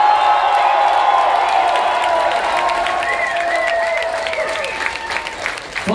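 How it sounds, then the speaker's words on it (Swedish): A large audience at a bar-show anniversary celebration applauds and cheers loudly and continuously, with dense clapping and occasional whoops throughout, slowly easing off toward the end. "Får höra publikens jubel."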